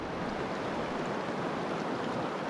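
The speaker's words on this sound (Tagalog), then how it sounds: "kumukulo ang tubig sa barkong bato" Water boils at a stone boat, a dense, continuous rushing and bubbling that stays loud and close the whole time, with no voices.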